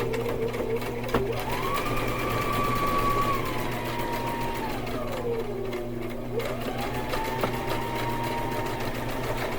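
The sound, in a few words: sewing machine stitching and back stitching a rice bag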